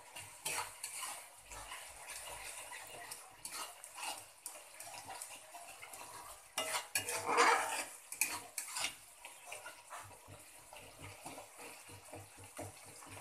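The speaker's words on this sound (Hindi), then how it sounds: "अब मैं इसमें डाल देती हूँ कश्मीर पाउडर" Kashmiri chili powder is stirred into a frying masala for a soybean, potato and pea curry: soft, continuous scraping and spoon clinks against the pan over a faint sizzle, close and low in level.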